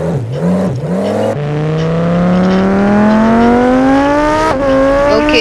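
Engine of a Ferrari in the BeamNG driving game revving up, a steady climbing drone that rises continuously in pitch after a few short blips, loud and close, with no voices.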